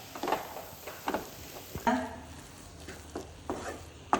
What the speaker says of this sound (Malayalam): നല്ലോണം ഇത് എല്ലാം കൂടിയിട്ടൊന്ന് മിക്സ് ചെയ്യാം ഉരുളക്കിഴങ്ങും ഉള്ളിയും ഉള്ള മസാല എല്ലാം കൂടിയിട്ടൊന്ന് നല്ലോണം ഒന്ന് മിക്സ് ആയി കൊടുക്കാം